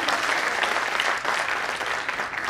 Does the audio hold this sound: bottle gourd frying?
no